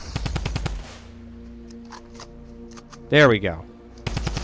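Rapid Stinger SMG fire in Fortnite's Unreal Editor: a fast automatic burst at the start, a reload-like clatter and a whooshing effect, then another burst at the end, with someone speaking briefly in between.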